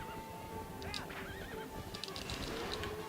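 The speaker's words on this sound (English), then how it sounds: "Turn the horse around, Link, please." A horse in Zelda: Twilight Princess HD whinnies with a wavering neigh, then gallops with continuous hoofbeats over a busy in-game soundscape, followed by more neighing calls. No talking.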